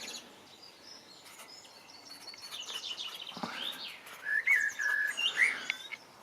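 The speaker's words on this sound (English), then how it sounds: "Way up there, just heard a magpie," Magpie calling high up over a back garden among other birds, with scattered chirps and whistles rising into louder harsh bursts toward the end, moderately distant.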